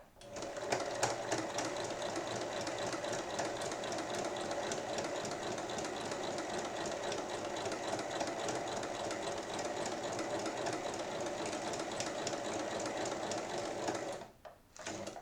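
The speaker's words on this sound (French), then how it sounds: "il suffit de venir piquer sur la ligne qu'on a tracée" Sewing machine stitching fabric along a traced line, a rapid steady mechanical chatter running nearly fifteen seconds before stopping briefly near the end.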